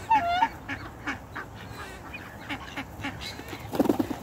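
A swan honks and snorts close by while tugging at a person's hand, short nasal calls recurring irregularly over background noise, with a louder flurry near the end.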